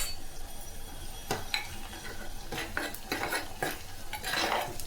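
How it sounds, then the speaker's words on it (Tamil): Onions sauté in a pan as a spoon stirs them, giving scraping and clinking strokes over a soft sizzle of frying, close by with no talking. "வெங்காயம் நல்லா வதங்கிடுச்சுங்க"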